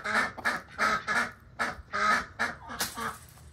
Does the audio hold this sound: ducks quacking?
yes